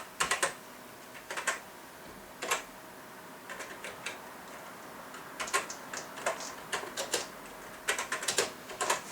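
Keys clatter on a TheC64 retro computer keyboard as a BASIC program is entered, in irregular bursts of crisp, close clicks separated by brief pauses, with no voices.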